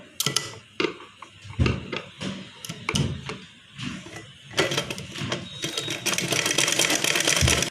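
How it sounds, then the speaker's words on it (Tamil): A domestic sewing machine runs in bursts, stitching a folded golden border along the round neck of a blouse, with uneven mechanical whirring and clicking that builds toward the end into a denser, steady run. "இப்போ நம்ம மடித்து வச்சு இந்த ஓரம் தைச்சிடலாம்."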